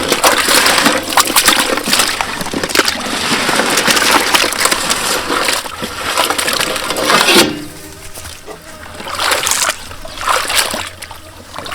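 Cleaned shrimp being washed by hand in water for grilled shrimp, a busy close splashing and sloshing that runs steadily, then eases into softer trickling and rinsing.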